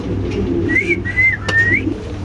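A male Masalkar pigeon calls close by, a few short rising whistly coos over a low background murmur.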